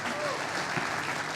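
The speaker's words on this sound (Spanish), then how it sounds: "No es necesario que aplaudan, porque además me equivoqué." Audience applause at a talk on artificial intelligence and creativity, a steady wash of clapping filling the short moment with faint voices mixed in.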